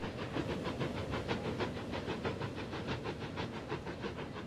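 Trams running on a Manchester Metrolink line in a city-building game, a steady rhythmic rumble with regular clacking pulses, faint and continuous with no talk.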